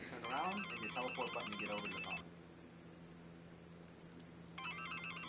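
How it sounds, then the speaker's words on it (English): An electronic telephone ringtone in the video game Accounting+ trills in repeated bursts, pausing briefly before starting again, with faint voices underneath. "oh, the phone's ringing."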